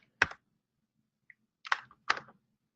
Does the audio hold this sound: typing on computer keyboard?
yes